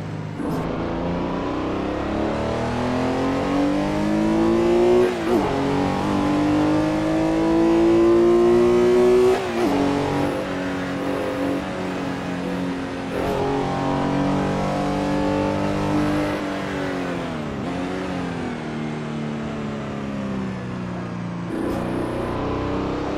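Porsche 906 E racing engine in Assetto Corsa on a historic 1960s track, a loud continuous drone rising in pitch through each gear, with sharp drops at upshifts around every few seconds and no talking.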